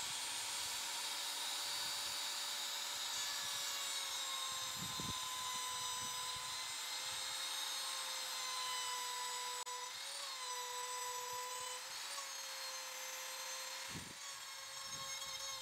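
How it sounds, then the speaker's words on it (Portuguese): A handheld power router machines a wooden tabletop along guide boards held by two clamps, its motor whining steadily and loudly with slight pitch dips as the bit bites, running continuously throughout. "eu utilizei dois grampos sargentos e duas madeiras como guia para a usinagem com a tupia"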